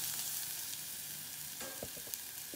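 Carrots fry in a pan with a soft, even hiss of sizzling oil and a few light clicks of a utensil near the end.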